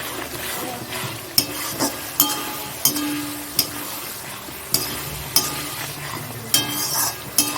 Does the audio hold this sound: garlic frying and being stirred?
yes